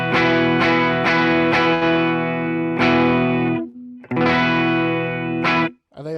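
Electric guitar played through a Walrus Audio ACS1 amp-simulator pedal set for an AC30-style tone, loud strummed chords ringing out with sustained harmonics and a brief gap before strumming resumes, heard alone.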